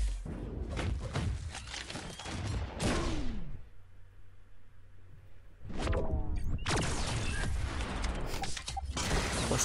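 MODOK's special 3 missile attack in Marvel Contest of Champions: a dense barrage of impacts, crashes and whooshing bursts in two loud volleys separated by a quieter pause, with mechanical clanks and thuds throughout.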